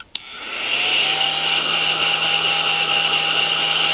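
A cheap Tchibo handheld battery-powered vacuum cleaner switches on with a click and runs loudly and close, a steady high whirring motor hum with a constant airy roar.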